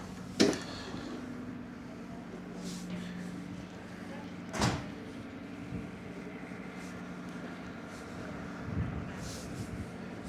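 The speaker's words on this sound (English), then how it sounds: "Oh, a heavy door." A heavy door on an Irish Ferries ship thuds shut a couple of times against a steady engine hum, with sharp knocks standing out from the low drone.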